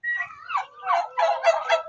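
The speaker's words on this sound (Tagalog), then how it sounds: "may pabo" A turkey on a farm at a Cavite resort gobbling in a run of loud, nearby warbling bursts, clear and close with no talk over it.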